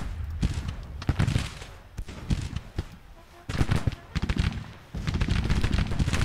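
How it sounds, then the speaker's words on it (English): Massed Civil War brigade musket fire in Grand Tactician: The Civil War, with irregular volleys and scattered shots crackling in bursts, some louder and nearer, others overlapping into a dense rolling fusillade. "Get the whole brigade firing."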